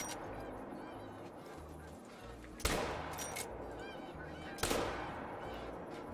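Two sharp gunshots from a hunting video game crack out about two seconds apart, standing clearly above a steady low background rumble and murmur.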